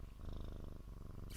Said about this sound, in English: Oh yeah, that's purring.